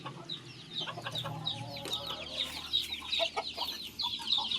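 Australorp hens and small chicks cluck and peep together at close range, a busy overlapping chorus of soft clucks and high chirps with no talking.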